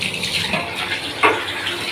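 Tap water runs steadily into a kitchen sink while a wok is being washed, with a brief sharper splash or clank partway through. It sounds close and continuous, and nobody speaks.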